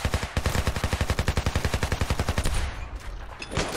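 Rapid automatic gunfire in the Ravenfield video game rattles off as a steady burst of evenly spaced shots for about two and a half seconds, loud and close, then trails off into quieter scattered noise.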